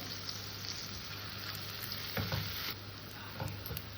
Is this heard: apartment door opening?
no